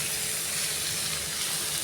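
Watermelon rind frying in a pan for a fry curry, a steady close hiss and sizzle that carries evenly from start to finish without pause.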